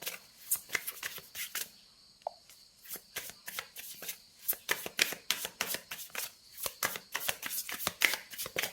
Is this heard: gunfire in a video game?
no